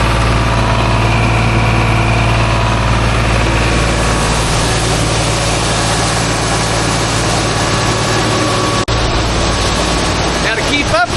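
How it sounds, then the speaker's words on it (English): A 40-horsepower Rural King tractor runs a 10-inch grain auger wide open during soybean harvest, giving a loud, steady engine drone and mechanical rumble that continues without a break. "we've got a 40-horse Rural King tractor running a 10-inch auger wide open"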